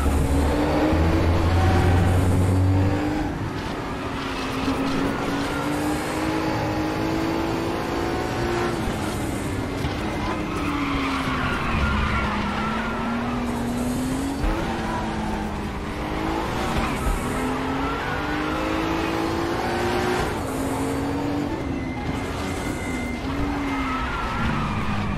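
Kremer Porsche race car engines in a racing video game, a loud sustained drone with gear-change dips and shifting pitch, tyre squeal and other cars passing close by throughout.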